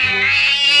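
A cat meows once, a drawn-out, loud, close, high whine that swells toward the end, heard alone with no talk.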